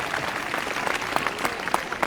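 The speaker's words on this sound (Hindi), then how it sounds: "जोरदार तालियां।" An audience claps steadily at the inauguration of a newly built government school in Panipat, a moderate, continuous patter from a crowd of children and guests with a few louder claps standing out.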